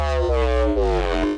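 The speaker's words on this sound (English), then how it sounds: "So I'm doing like a high pass growl effect with this first filter" A synth reese bass run through a high-pass growl filter with a notch filter adding movement, a thick, buzzing, harmonically rich tone that sustains loud and alone, with slight pulsing shifts across its length.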